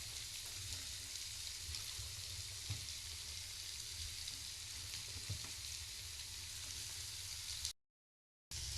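Okra (bendakaya) frying in a pan for a home curry, a steady, even sizzle close by with faint occasional stirring ticks, cutting briefly to silence near the end.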